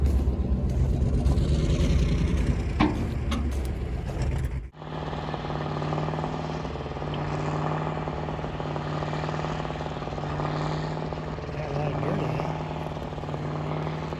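A tractor engine with a faulty fuel pump and injector runs unevenly. A loud, steady rumbling drone is cut by a brief dip partway through, then continues with a rough, slightly sputtering hum.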